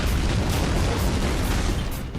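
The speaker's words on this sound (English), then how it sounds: "Big explosions seem to be a general theme in the Ballad of Gay Tony." A big explosion in Grand Theft Auto IV: The Ballad of Gay Tony, a dense, roaring blast that stays loud and sustained for about two seconds before easing slightly at the end.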